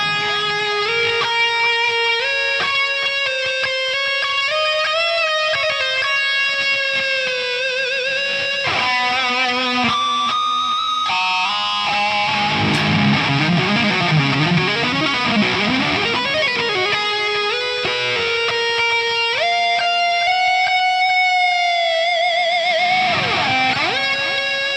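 Distorted electric guitar, a seven-string through a Hughes & Kettner Coreblade amp simulator with delay and reverb, plays lead lines and chords with long echoing repeats and a roomy reverb tail, loud and continuous, no voices.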